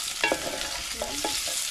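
Meat browning in a pot, a steady bright sizzle with a few louder scraping stirs and clinks breaking through, close and fairly loud.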